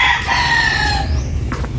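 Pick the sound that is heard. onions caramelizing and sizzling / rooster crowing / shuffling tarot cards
rooster crowing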